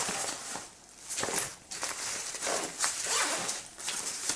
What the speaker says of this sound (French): et une deuxième poche avec fermeture éclair